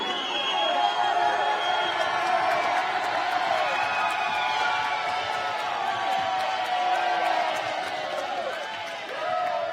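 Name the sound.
crowd cheering at combat league fight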